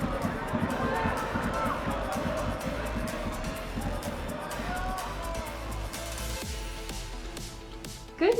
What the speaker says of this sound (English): You're hearing the sounds of cheering at the local football ground.